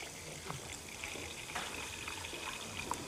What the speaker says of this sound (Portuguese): colocamos um bocadinho de água